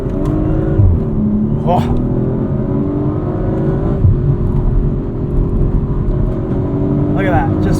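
A 2023 Audi RS5 Competition Coupe on winter tires, stability control off, pulls hard from inside the cabin, its engine droning loud and steady with rising gear pulls, while a voice exclaims briefly.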